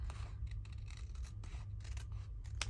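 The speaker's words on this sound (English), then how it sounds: "If I can get in there with my scissors." Scissors cut paper during a handmade craft journal project, producing a run of quick, crisp snips and slides, quiet and close up against a low background hum.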